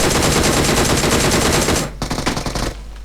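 Rapid automatic gunfire in the battle royale game PUBG on the Livik map: a dense, loud, close stream of shots that breaks into shorter choppy volleys before stopping, with no talking.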